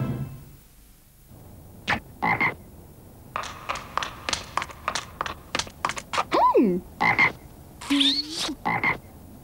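Frogs croak in a French television advert: loud, close, rhythmic croaks in quick bursts, with a few squeaky sliding calls late on and a voice speaking over parts of it.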